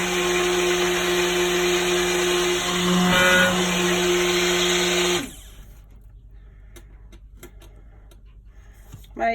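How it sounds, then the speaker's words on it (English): A stick blender whirs loudly and steadily as it blends soap batter with spirulina, then switches off abruptly, leaving quiet room tone with faint taps and light handling noises. "Might turn my stick blender on."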